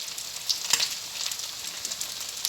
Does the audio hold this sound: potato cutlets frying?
yes